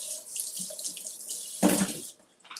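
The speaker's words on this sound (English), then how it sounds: "All right, we're gonna rinse this off." Tap water runs into a sink while something is rinsed under it, a soft splashing flow that swells into a louder gush near the end before cutting off, with no talk.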